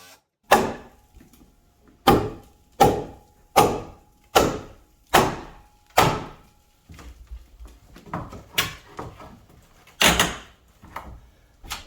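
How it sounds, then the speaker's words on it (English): Series of sharp hammer blows knocking out a wall stud in an old house for a window opening, about nine loud evenly spaced strikes with wooden thuds and rattling between. "so I just took out one of the studs that are going to be in the way of the window."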